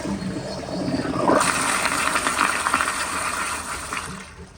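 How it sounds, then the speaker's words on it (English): A 2000 Eljer Signature toilet flushes at deliberately weak water pressure: a steady rushing, gurgling wash of water that swells about a second in, holds for several seconds, then cuts off abruptly near the end. "So that's about as weak as I can get it to where it'll flush properly."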